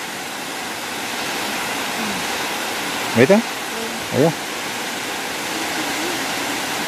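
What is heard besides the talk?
small waterfall of mountain water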